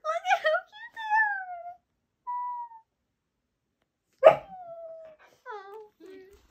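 Dogs bark, whimper and whine in short separate bursts with quiet gaps between them, close and clear.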